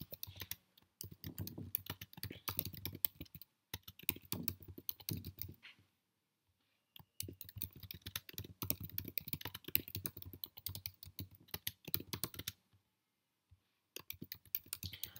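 Steady typing on a computer keyboard while entering ad headlines, with bursts of rapid key clicks separated by a few short pauses, close and clear with no talking.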